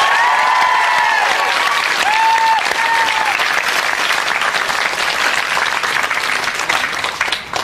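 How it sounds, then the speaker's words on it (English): Studio audience at a live television eviction show applauding loudly, dense sustained clapping with some cheering that slowly eases toward the end. "big round of applause, please, for Dennis."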